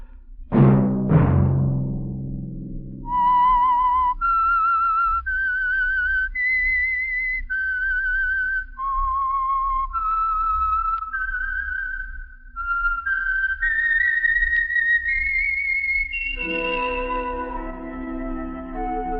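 A whistled theme tune for an old-time radio show plays alone, clear and sustained, stepping through a slow tune, opening over a low chord and ending on orchestral notes.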